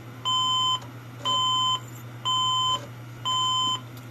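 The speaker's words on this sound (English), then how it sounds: "We're beeping. Why are we beeping?" Four evenly spaced electronic beeps from a vintage computer at startup, each about half a second long, sounding close and clear over a low steady hum.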